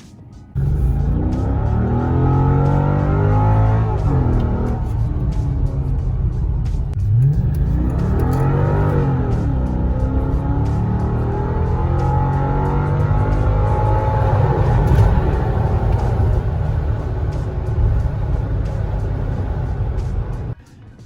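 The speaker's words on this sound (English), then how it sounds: "It's just not quick on shifts, as I'll demonstrate now." A Mercedes C55 AMG engine pulls hard, its loud roar rising in pitch, dipping at several slow gear changes, then climbing again, heard from inside the car for about twenty seconds with no one talking.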